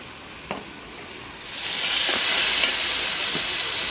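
Spice paste (masala) frying in a pan, a steady close hiss that swells louder midway, with a few faint scraping stirs over the sizzle; no talking.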